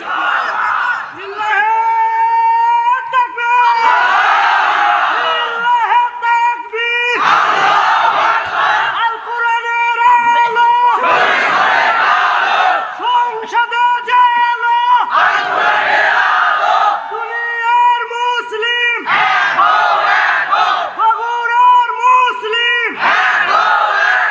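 A large crowd at an Islamic sermon (waz) roars a takbir chant in loud, rhythmic bursts, about six times over, each call swelling and then breaking off, with crowd voices filling the space.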